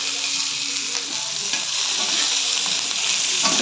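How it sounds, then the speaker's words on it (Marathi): Ingredients for thecha roast in hot oil in a pan, giving a steady, close sizzle and crackle that runs unbroken with occasional stirring scrapes and no voices. "तेल टाकून भाजून घेते"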